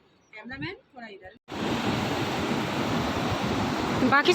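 Water rushes continuously down a mountain stream or waterfall on a trail toward a valley of flowers, giving a dense, steady roar with no breaks. Someone talks briefly just before the water begins and again faintly near the end.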